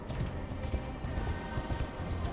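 A summoned horse gallops in the Darksiders Genesis video game, steady rapid clip-clop hoofbeats running continuously over game background sound.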